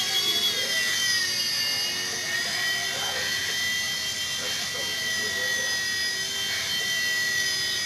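A small Blade mSR RC helicopter hovers close by, its rotor and motor giving off a steady high-pitched whine with a faint buzz beneath, constant and unbroken throughout.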